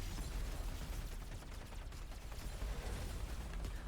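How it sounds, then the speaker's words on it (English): Explosion in the video game Matterfall, a dense, continuous rumbling blast of crackling detonations with a steady heavy low end throughout, loud and with no talk over it. "Ooh, get a nice explosion at the end there."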